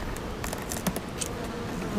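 Honeybees work a hive super in a backyard apiary, a steady close buzzing hum with scattered faint clicks and rustles, no voices over it.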